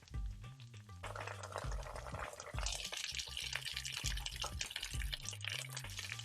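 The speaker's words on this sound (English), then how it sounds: "Around now, you're going to put in the sesame oil. And that's going to spatter" Sesame oil spattering and sizzling in a hot pan of frying gyoza, a steady crackle over music playing in the background with no talk.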